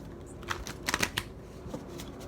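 Tarot cards are shuffled in a short, soft burst of crisp riffling clicks, close by and quiet.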